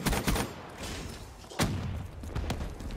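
Rocket launcher fire in Call of Duty: Black Ops 3, heavy booming blasts and explosive thuds in a few bursts over game noise, no talk.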